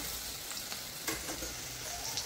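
Okra sizzling and frying in a hot pan, a steady close crackle and hiss with occasional brief bursts as the pieces are stirred, no voices over it.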